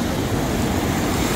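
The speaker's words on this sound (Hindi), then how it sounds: "गंगा जल का बहाव देखिए कितने तेज़ है" Fast, swollen Ganga river at Rishikesh during heavy monsoon rain, a loud, dense, unbroken rush of churning water filling the whole moment.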